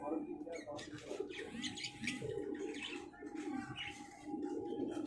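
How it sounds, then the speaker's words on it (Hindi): Soft Sialkoti pigeon coos and chirps in a busy coop, with people talking nearby and steady background noise throughout. "ये सियालकोटी कबूतर है"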